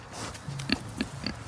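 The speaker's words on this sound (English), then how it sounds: "They're Idaho pasture pigs." Idaho pasture pigs grunt in a pen on a farmstead, giving a few short, close grunts and snuffles at irregular intervals over a soft background.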